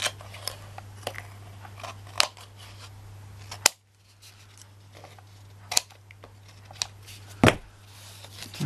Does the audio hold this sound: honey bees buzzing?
no